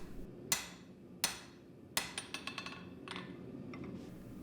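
A hand hammer strikes a katana blade being forged: three widely spaced sharp metallic blows, then a quicker cluster of lighter ringing taps that fade out, fairly quiet and with no talk.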